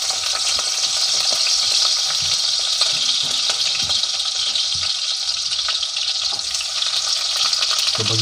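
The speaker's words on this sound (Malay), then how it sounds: "Kita bagi lembut bawang bakong dulu." Leeks sautéing in a pan at the start of a prawn curry, giving a loud, steady, dense sizzle with occasional stirring scrapes throughout.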